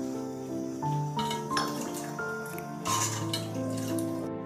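Water from soaked dried mango is poured into a pot of sardine fish curry, giving a faint, close trickle and splashing with a few light clinks of a vessel. No one speaks.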